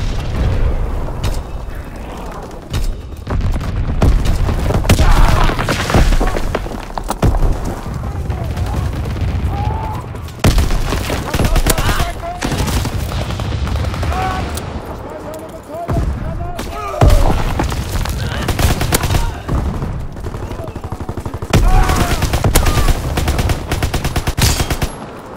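Anti-aircraft guns fire in rapid bursts in Call of Duty WWII, loud booming rounds and chattering volleys with explosions overlapping, while voices call out between and over the gunfire.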